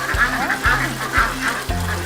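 Pekin ducks on a farm quack repeatedly in a steady rhythm of short, loud, nasal calls, up close, about one every half second.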